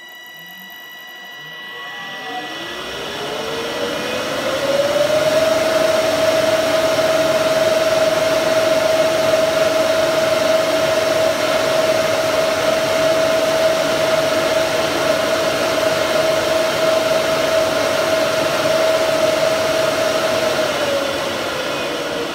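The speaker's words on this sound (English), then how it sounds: "we'll go ahead and we will start the fans up, and we'll ramp up to the top speed" TMC and Seaflo blowers on a wind simulator start up and spin up to top speed: a loud, steady whirring whine climbs in pitch over a few seconds, then holds constant for about fifteen seconds before easing slightly.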